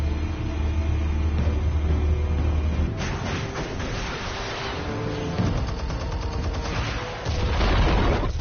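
Gunfire and explosions from a Batman video game: a dense, continuous barrage of shots and booms with rumbling low blasts, loud throughout, and no talking.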